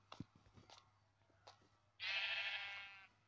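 A Minecraft sheep gives one clear, fairly loud bleat near the end, following a few faint clicks and soft taps in a quiet game scene.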